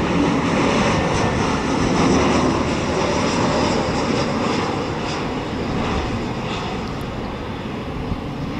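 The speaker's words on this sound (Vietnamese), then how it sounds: "ngay phía sau đấy lại có một chiếc Airbus A321 khác" Airbus A321 in Vietjet Air livery on landing approach to runway 25R at Tan Son Nhat, a loud, steady roar of jet engines throughout, close and continuous with slight swells, no voices.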